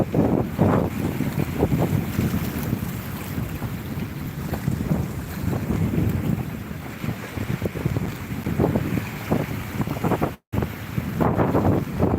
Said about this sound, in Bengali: কঠিন বাতাস